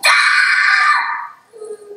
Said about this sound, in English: it's not okay to scream